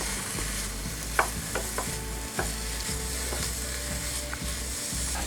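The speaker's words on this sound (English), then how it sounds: "we're going to pop in all of our onions at once. And give them a stir to make sure they're all coated in oil." Onions stirred in oil in a pan for caramelising, with a low sizzle under repeated close scraping and clicking strokes of the utensil, a few sharper knocks standing out.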